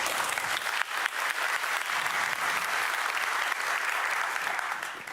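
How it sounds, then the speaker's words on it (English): Sustained, dense applause from a conference audience at a DevOps event fills the room, steady and loud throughout before tapering slightly at the end. "please give a big round of applause for Lou"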